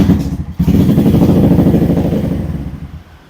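A 2020 Benelli Motobi 152 motorcycle engine runs loud and close with a rough, clattering idle, a brief blip early on, then a steady throb that gradually fades; its carburettor needs tuning.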